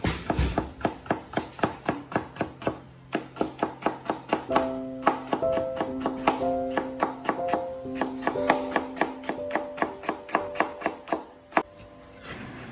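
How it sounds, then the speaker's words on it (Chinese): A knife rapidly chopping vegetables into fine, even shreds on a cutting board for a light stir-fried three-shred dish, with steady, close, sharp taps repeated in a quick rhythm and no talking. "也同样均匀的切成细丝"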